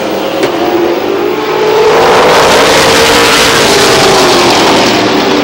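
Race cars roar around the oval at Star Speedway on the final lap, a loud continuous engine drone rising and swelling as the pack passes close.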